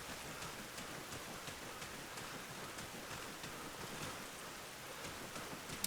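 Rain falls in the Arma Reforger video game as a steady, soft, hissing patter that continues evenly throughout, faint and with no voices over it.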